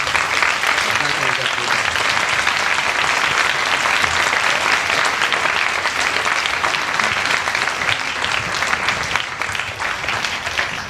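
A concert audience applauds the crew and the town of Sargé at an evening show in Sargé-lès-Le-Mans, a dense, steady wash of many clapping hands holding at full strength before easing slightly near the end.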